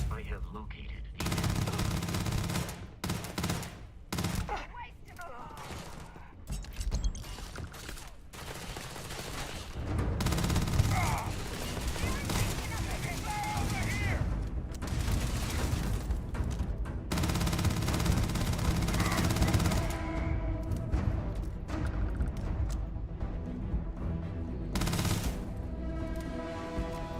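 Rapid bursts of sci-fi gunfire from the video game Starfield crackle almost nonstop over a dense, loud game soundscape, with volleys repeating in quick clusters throughout.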